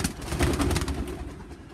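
Pigeons cooing close by as a small group of birds is let out, a soft continuous burble over low background rumble.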